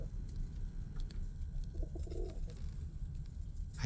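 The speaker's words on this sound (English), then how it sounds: "I hear a pigeon." A pigeon cooing in the game Ad Infinitum, a soft low coo rising briefly out of a murky rumbling ambience, faint and somewhat distant.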